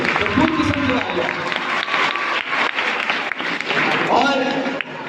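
A crowd applauding school delegations at the opening ceremony of a youth festival, a sustained roar of clapping from many hands, with an announcer's amplified voice talking over it.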